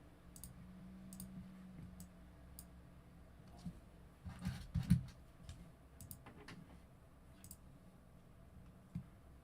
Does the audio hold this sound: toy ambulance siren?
no